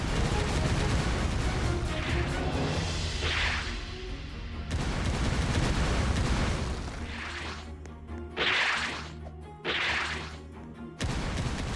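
A Chain Kick attack in Holy War X lands as a series of sharp whip-like cracks and bursts at irregular intervals over a constant loud game backdrop, with no speech.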